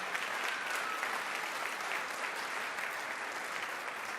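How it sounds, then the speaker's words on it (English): Steady, dense audience applause fills a hall at a junior tamburitza festival in Chicago, many hands clapping continuously at an even level, with no talk. "A round of applause for Brother Frank Yerbich."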